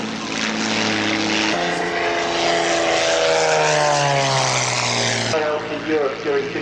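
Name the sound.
propeller aircraft flying stall turn at air show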